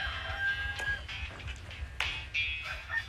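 A person mimics a rooster's crow with the voice, a couple of short strained rising calls close up, with faint background noise.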